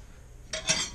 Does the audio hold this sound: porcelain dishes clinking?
yes